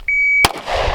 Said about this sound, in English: it gives me a second beep at the time that I want